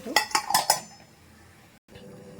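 Four quick metallic clanks of a lid set onto a cooking pot, then a quiet pause and faint kitchen hiss.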